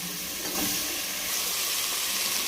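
Pieces of country chicken sizzle in hot oil spiced with turmeric, giving a steady, close, moderately quiet hiss with no talking.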